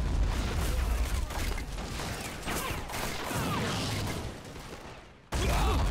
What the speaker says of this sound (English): mortar rounds are landing here and there